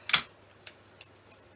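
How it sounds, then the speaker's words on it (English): Scissors trim string for a homemade puppy marionette, with one sharp snip followed by two lighter clicks in a quiet room. "Now I'll trim it down a little bit"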